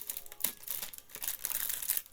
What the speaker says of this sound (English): So just getting these things out of the bags